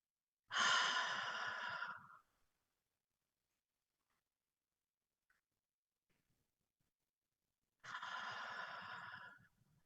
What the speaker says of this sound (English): take a deep breath in through your nose and just hold it for a moment and exhale slowly through your mouth like this